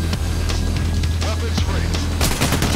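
Dense, continuous gunfire from snipers and other weapons in the Payday The Heist video game, with rapid repeated shots under a constant loud mix, while voices shout over it.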